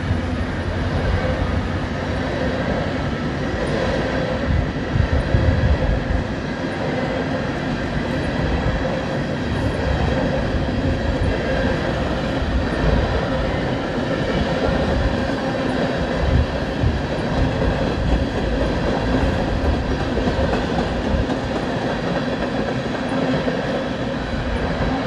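BNSF and Union Pacific freight trains passing at Plattsmouth, Nebraska: a loud, continuous rumble of rolling railcars with steady rattling and clanking, close by throughout.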